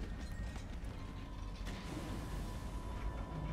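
A door mechanism in a video game creaks and grinds, with steady ratcheting gear noise that stays even throughout.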